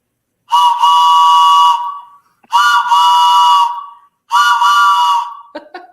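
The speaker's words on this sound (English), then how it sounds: "So train whistle blast" Three loud, long train whistle blasts at Walt Disney World, each about a second and a half, separated by short pauses, followed by a brief fainter toot.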